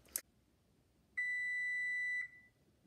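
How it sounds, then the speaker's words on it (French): A kitchen timer beeps once in a single steady, clear tone lasting about a second, preceded by a brief click in an otherwise quiet kitchen. "Ça sonne! Alors, j'éteins la minuterie"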